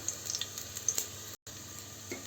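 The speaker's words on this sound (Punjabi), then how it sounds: "ਲਸਣ ਆਪਾਂ 2 ਮਿੰਟ ਭੁੰਨਦੇ ਆ" Garlic fries in a pan with a steady, moderate sizzle and crackle throughout, broken by a very short dropout partway through; no voices.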